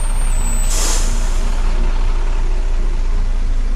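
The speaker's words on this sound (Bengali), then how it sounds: "ওই যে আপনার বাস এসে গেছে" A bus pulls in with a loud hiss of air brakes early on, followed by a steady low engine rumble and road noise.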